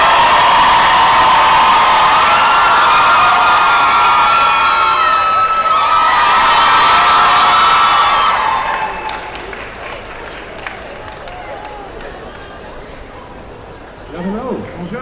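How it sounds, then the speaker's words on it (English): A large fan festival crowd in Paris applauds, cheers and whoops loudly for actor Tyler Hoechlin, with high shouts on top for about eight seconds before it thins to scattered clapping and chatter. "De faire un tonnerre d'applaudissements pour Tyler HOECHLIN"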